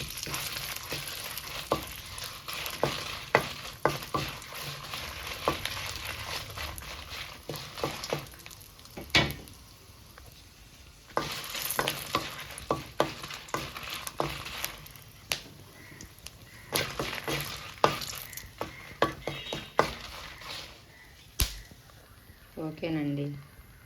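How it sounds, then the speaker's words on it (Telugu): Dried red chillies fry in a little oil in a kadai, giving a soft, steady sizzle with scattered crackles and stirring clinks close by, fading and returning through the stretch. "కొంచెం ఆయిల్ వేసుకుందాం అండి ఎక్కువగా అవసరం లేదు కొంచెమే ఎండుమిర్చి ఫ్రై చేసుకోవడానికి మాత్రమే"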